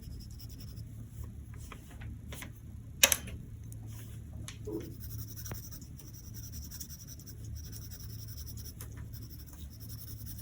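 Pencil sketching wispy clouds on paper, a soft continuous scratching and scribbling close up with a brief sharper tap partway through, alone and fairly quiet.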